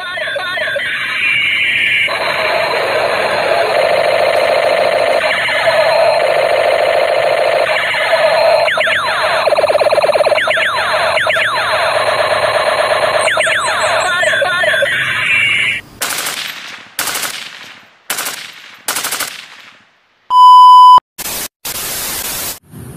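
A Steyr AUG toy gun plays its electronic sound effects: a long stretch of harsh, buzzing static-like noise, then a series of short bursts and a clear electronic beep near the end.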